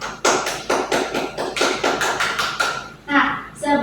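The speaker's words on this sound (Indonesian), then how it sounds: "Nah, aplaus untuk kita hari ini ya." A classroom of students claps together at a teacher's call, a burst of fairly even hand claps lasting a few seconds before fading, with a brief voice rising at the end.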